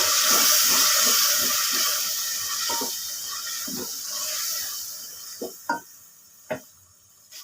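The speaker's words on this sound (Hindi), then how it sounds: "अब ये चने डाल के इसे भून लेंगे अच्छे से" Black chickpeas sizzle and hiss loudly as they hit a hot pan for roasting. The frying fades to a quieter crackle, broken by a few sharp clinks of a utensil against the pan.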